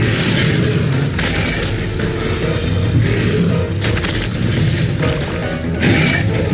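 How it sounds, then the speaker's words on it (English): Missiles fired at an enemy in the video game Metroid Dread boom in a dense, continuous barrage of heavy blasts layered over loud game action. "Some missiles directly to face."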